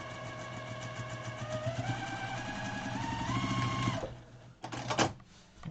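A sewing machine joining Moda fabric blocks runs a steady motorized stitching hum with a rising whine for about four seconds, then stops, leaving a few clicks and handling sounds.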